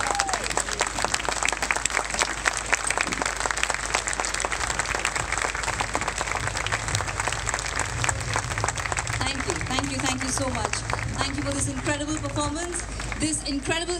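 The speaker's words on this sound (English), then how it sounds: "Big round of applause, please." An audience at a live tabla performance with drums, djembe and violin breaks into sustained, dense applause that stays loud and even, with a voice speaking over it toward the end.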